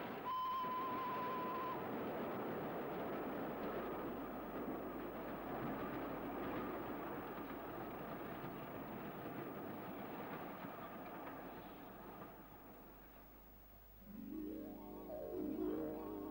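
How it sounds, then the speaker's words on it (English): A train on a UK railway rumbles along steadily at a distance, growing nearer, with a brief whistle-like tone early on and rhythmic clacking rising toward the end. "he hears a train approaching. Yes, there it comes."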